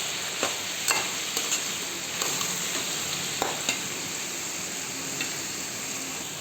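Carrot and fresh grated coconut curry stirred in a pan, a soft steady sizzle with scattered scraping clicks of the spoon against the pan, close and fairly quiet, no voices.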